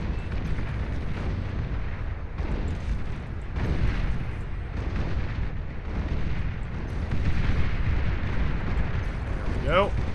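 A commander unit blows up in the real-time strategy game Beyond All Reason, a sustained rumbling explosion amid ongoing battlefield booms and blasts, loud and dense throughout with a voice briefly over it.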